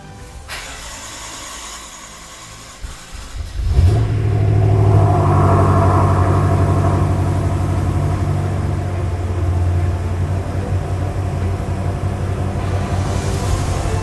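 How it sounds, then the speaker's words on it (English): A BMW F10 M5 V8 cranks briefly, catches and settles into a loud, steady idle rumble after new injectors are fitted, running alone and close by for about ten seconds. "Okay, so I should be ready to start the car now."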